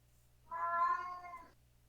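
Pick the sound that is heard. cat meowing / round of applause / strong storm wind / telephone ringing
cat meowing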